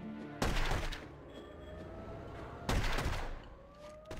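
Gunfire in The Godfather video game: two loud, sharp bursts of shots about two seconds apart, each ringing out and decaying, with no talk over them.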